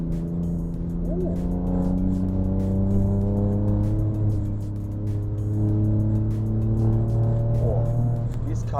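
An Alfa Romeo Giulia Quadrifoglio with its 2.9-litre engine accelerating and revving on a B-road, a strong rising and falling engine note heard from inside the car with rev changes as gears shift.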